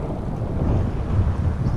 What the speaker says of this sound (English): Yeah, a bit windy